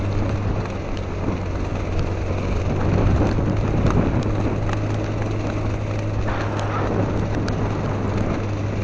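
Steady rain falls at Takduan, Palawan, a continuous broadband wash with a low rumble under it, loud and close throughout with no voices.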